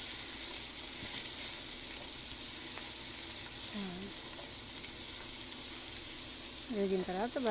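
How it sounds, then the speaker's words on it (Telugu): Finely chopped green chillies frying in hot oil with cinnamon and cardamom for a salmon fish curry, a steady close sizzle and crackle running throughout, with a couple of short tonal squeaks near the end. "ఇది కొంచెం బాగా వేగాలి"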